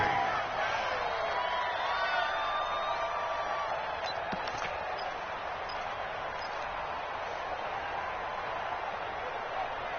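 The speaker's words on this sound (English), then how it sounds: "The crowd getting into it as we come up on a big third down." A video game crowd in a PS4 American football game roars steadily ahead of a big third down, a dense, continuous wash of cheering with faint whoops, all fairly far off.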